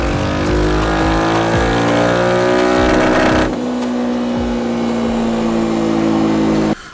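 A Royal Enfield Interceptor 650 motorcycle fitted with a filter kit and ECU remap revs hard on a dyno, its engine note climbing in a loud sustained pull, then easing slightly before cutting off abruptly.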